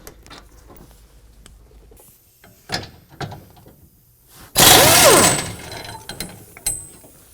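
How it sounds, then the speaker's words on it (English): Ratchet with a 17 mm socket loosening a rear sway bar bracket bolt on a 2022 Toyota Tundra, with scattered clicks and a loud burst of clattering metal midway, close by. "remove the rear sway bar bracket from the frame using a 17 millimeter on this"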